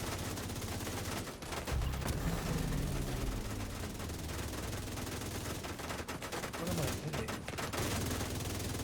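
Sustained automatic machine gun fire in the video game The Division, dense rapid bursts with scattered single shots under a steady wash of combat noise.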